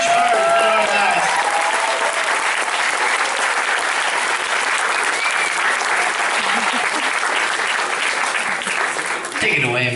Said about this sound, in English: let's give a round of applause for these amazing students